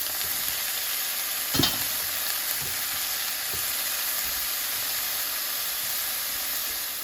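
Garlic and vegetables sautéing in a pan, a continuous close sizzle and hiss with a single brief stirring clatter near the start and a couple of faint knocks afterward.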